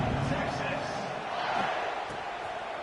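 Stadium crowd noise from the College Football 26 video game, a dense, steady roar of many voices filling the space continuously and loudly for a few seconds.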